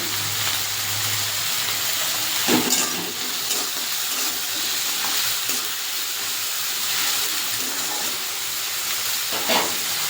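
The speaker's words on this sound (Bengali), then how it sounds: "পেঁয়াজটা এগুলো লালচে করে ভাজা হয়ে গেছে" Onions sizzling in hot oil with whole garam masala, cinnamon, cloves, cardamom and a dried red chilli, a steady bright frying hiss with a few soft stirring knocks, close and continuous.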